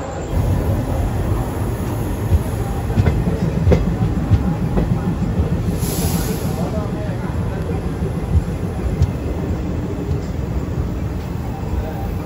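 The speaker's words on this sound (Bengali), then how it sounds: "আর 10:40 একদম রাইট টাইমে ট্রেন ছেড়ে দিল পুরী থেকে" Passenger train rolling along after leaving Puri on time, a steady loud low rumble of wheels on track with faint clickety-clack, continuous throughout, with a voice talking in the carriage at times.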